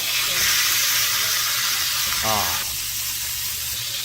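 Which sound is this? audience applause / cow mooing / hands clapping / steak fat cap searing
steak fat cap searing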